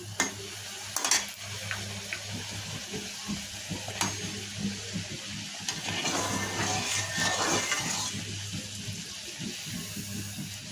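Luchi flatbreads fry in hot oil with a steady close sizzle and bubbling, broken by occasional utensil taps and stirring, no voices over it.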